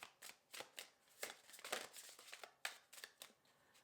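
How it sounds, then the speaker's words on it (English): A tarot card deck is shuffled close by in a quiet room, with a quick series of soft papery riffles and slaps coming in irregular bursts, faint overall. "Okay, one more shuffle."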